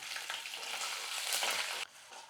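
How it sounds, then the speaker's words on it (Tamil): Seasoning frying in a kadai for tamarind rice offering, a steady bright sizzle with stirring scrapes, close and continuous before cutting off abruptly near the end; no voices. "பாருங்கள், எல்லாமே நல்லா வறுபட்டுடுச்சு."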